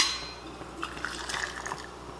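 Hot liquid is poured into hot canning jars packed with raw cherries, a short gurgling, splashing fill with small bubbling bursts over a quiet background.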